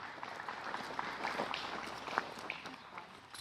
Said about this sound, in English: gets the applause from the crowd